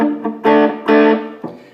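Electric guitar driven through an overdrive pedal, several distorted strummed chords in an uneven rhythm with two loud sustained hits, gritty and close, with no voices.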